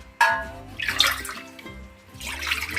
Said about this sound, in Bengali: 2 কাপের মতো জল দিচ্ছি